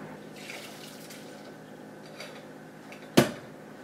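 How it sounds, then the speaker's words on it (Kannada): Cooked dal water strained from a cooled pressure cooker through a kitchen strainer, heard as a faint steady trickle under low room noise, then a single sharp metallic clink near the end. "ಇದನ್ನು ನಾನೀಗ ಈ ಸ್ಟೈನರಲ್ಲಿ ಸೋಸ್ಕೊಂಡು ನೀರನ್ನ ತಗೊಳ್ತೀನಿ."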